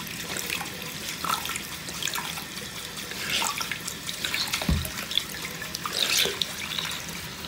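Tap water runs steadily into a sink to soak dirty sponges, a continuous close splashing hiss with occasional drips and small knocks.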